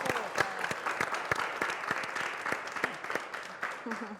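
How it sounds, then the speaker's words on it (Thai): Studio audience clapping, quiet and moderately dense, with sharp individual claps standing out in an uneven rhythm and faint voices underneath. "ปรบมือได้อีกทีครับ"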